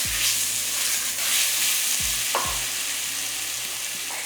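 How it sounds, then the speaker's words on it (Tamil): Whole crab pieces sautéed in a pan for crab soup, a continuous loud sizzle with a few stirring clunks and scrapes, close up and without speech. "நம்ம எடுத்து வச்சுருக்க நண்டு முழுசு முழுசாக வச்சுருக்கோம் இல்லையா அதையும் இதில் சேர்த்துடலாம் சேர்த்துட்டு நல்லா வதக்கிக்கலாம்"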